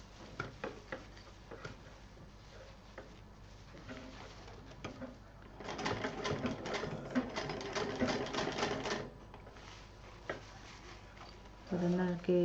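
A domestic sewing machine stitching a small handy pouch slowly along a zipper, its quiet rapid ticking run swelling louder in the middle and again at the end, with soft background noise and brief voice-like sounds.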